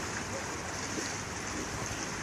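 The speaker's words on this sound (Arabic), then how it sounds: "ويا هذا صوت النهر الحلو" A river flowing in a steady broadband rush, close and continuous with no breaks, the water noise alone and fairly loud throughout.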